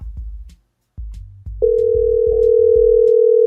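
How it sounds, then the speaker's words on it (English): A telephone handset dials out before a call, with several short tone beeps and clicks followed by a steady, loud, continuous dial tone close to the mic; no one speaks. "Let me try to call Tonya B"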